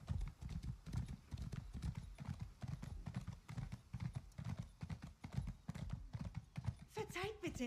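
Horse hooves clip-clopping steadily in Elder Scrolls Online, a close, rhythmic beat of galloping steps running throughout, with voices talking over it and a brief horse whinny near the end.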